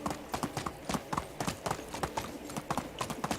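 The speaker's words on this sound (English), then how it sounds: "Run, horsey, run!" A horse gallops in the video game Medieval Dynasty, its hooves beating a fast, regular clip-clop rhythm that stays close and clear throughout.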